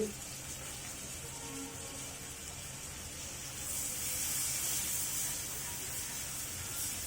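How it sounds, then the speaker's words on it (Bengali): Chopped onions, two large ones, hit hot oil in a pan and set off a steady hiss and sizzle that swells partway through and keeps going, close up with no talking. "এখন আমি এর ভিতরে বড় সাইজের দুটি পেঁয়াজ কুচি করে দিয়ে দিচ্ছি"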